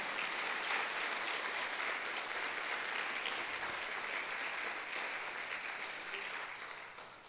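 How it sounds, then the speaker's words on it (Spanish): Church congregation applauding together during a Spanish-language service, a steady wash of clapping throughout that eases slightly toward the end. "Dale un aplauso al Rey."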